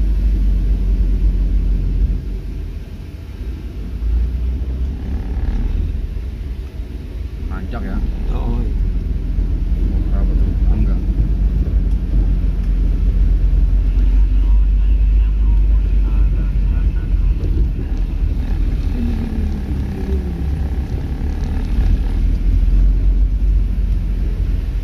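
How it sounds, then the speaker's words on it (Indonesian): A pickup truck climbs a mountain village road near Kandangserang, Pekalongan, Indonesia, with a loud, steady engine and road rumble, heavy wind buffeting and voices heard faintly over the noise. "angkutan di pegunungan Kandang Sirang biasa ya, pakai pick up ya"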